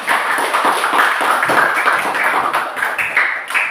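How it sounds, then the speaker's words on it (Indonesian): A group of students in a physical education class claps together, a dense run of quick, uneven hand claps continuing steadily at close range for several seconds. "Maka tepuk tangan untuk kita semuanya."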